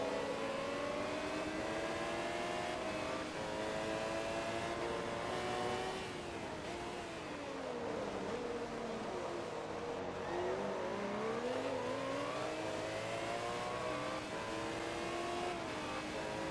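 Race car engine with a quad exhaust in the video game Forza Motorsport 2, a steady loud droning roar whose pitch dips and climbs as the car shifts and accelerates, continuous for the whole stretch.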